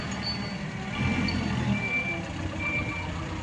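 A Motokar forklift backs up with its reversing alarm sounding, a few thin, evenly spaced warning beeps over the low, steady idle of the engine nearby.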